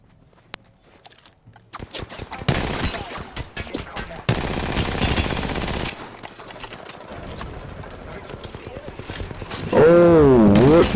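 Gunfire in the battle royale video game Apex Legends rattles in rapid bursts and sustained automatic volleys, with footsteps and other game effects mixed in and players talking over the action.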